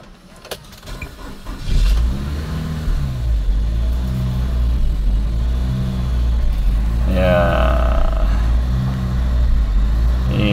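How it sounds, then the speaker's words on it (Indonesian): A Nissan X-Trail engine idles on its own with no throttle, the revs climbing and dropping in a repeating surge between roughly 1500 and 2000 RPM, a steady close mechanical drone swelling and easing in regular cycles. "itu adalah RPM yang naik turun ya kisaran 1500 sampai 2000 tanpa diinjak pedal gas nih"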